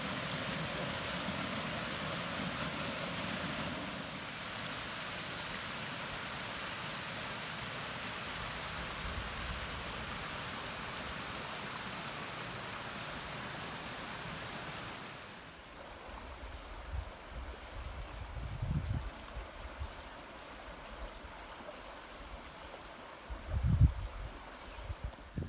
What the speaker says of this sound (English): I guess I see the waterfall now